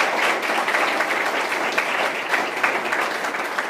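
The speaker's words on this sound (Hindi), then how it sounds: "तो बहुत बहुत स्वागत कीजिए, ज़ोरदार तालियों से इनका स्वागत कीजिए।" A school audience claps steadily and fairly loudly to welcome a panelist at a discussion on higher education, continuous applause with no speech over it.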